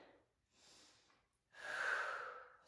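Audible breaths during a yoga flow: a soft, airy exhale, a pause, a quieter breath, then a longer, louder rushing breath near the end, close and unaccompanied by talk.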